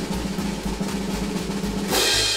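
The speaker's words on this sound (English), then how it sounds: "we do a little drum roll, it sounds something like this." A dense, rumbling drum roll plays continuously, ending in a bright crash-like burst near the end.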